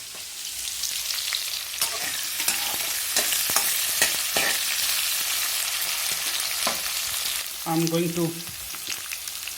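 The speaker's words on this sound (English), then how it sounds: "I am frying the onions over here" Onions and vegetables frying and sizzling in pans for vegetable biryani, a steady close hiss with stirring clatters and scrapes, and a short voice near the end.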